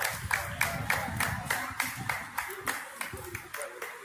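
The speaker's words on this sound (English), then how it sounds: "And they're clapping." Steady applause from a crowd at a Pride parade, with rhythmic clapping going on throughout over an outdoor hum and the sound of people talking.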